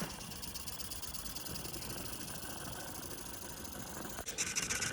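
A new Mamod Brunel toy live-steam locomotive with a modified chimney runs with a quiet, steady hiss and faint rapid chuffing throughout, shifting briefly near the end.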